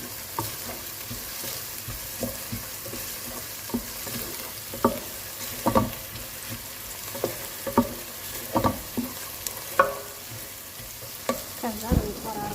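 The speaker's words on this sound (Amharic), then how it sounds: "እዚህ ጋር ሽንኩርት እንጠብሻለሁ። አሁን ደግሞ ነጭ ሽንኩርት ላደርግ ነው ማለት ነው።" Onion and garlic fry in a pan for creamy macaroni, a continuous close sizzle punctuated by repeated sharp scraping and tapping of the utensil every second or so, with no one speaking.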